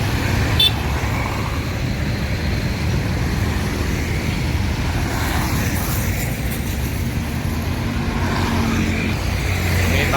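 Busy road traffic rolls past a Rosalia Indah bus station waiting area in Palembang as a steady, dense rumble of engines and tyres, with no one speaking.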